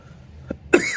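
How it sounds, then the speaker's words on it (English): A single sharp cough bursts out close to the microphone after a faint throat catch, short and abrupt against near silence. "a little bit of a cough right there"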